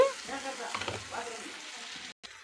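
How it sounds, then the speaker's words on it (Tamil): Onions sauté in a pan for a spicy okra curry, a soft sizzle with stirring scrapes beneath a brief murmuring tone, ending with a short cut to silence. "வெங்காயத்தை நல்லா வதக்கிக்கலாம்"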